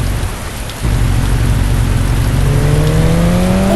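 Heavy rain pours down loudly and steadily in a dense, continuous roar, with a low rumble like a passing vehicle or distant thunder underneath and a rising engine whine toward the end.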